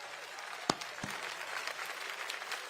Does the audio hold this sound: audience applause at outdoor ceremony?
yes